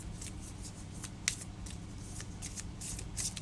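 Crisp, rapid riffling of a deck of cards being shuffled, with sharp flicks and papery bursts repeating over a low background hum.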